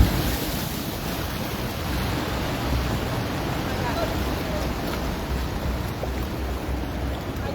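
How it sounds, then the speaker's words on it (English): Ocean waves surge and splash against a seaside wall on Oahu, Hawaii, a continuous loud wash of surf and spray with wind buffeting the microphone throughout. "these waves coming up on the wall right here have got me from my waist down just completely drenched"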